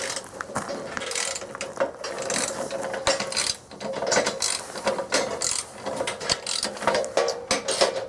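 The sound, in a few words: ratchet tightening bolts on Woodland Mills sawmill track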